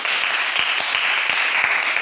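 A church congregation claps and applauds together, a close, even patter of many hands that holds steady for about two seconds.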